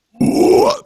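A single deep, growling burp lasts under a second and comes close and loud, right before a quick spoken word.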